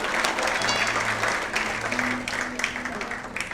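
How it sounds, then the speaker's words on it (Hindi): Audience applause at a public event attended by Bollywood figures, a dense continuous clatter of many hands lasting several seconds, with brief voices and a faint tonal hum mixed underneath. "आप चाहें तो तालियां बजा सकते हैं"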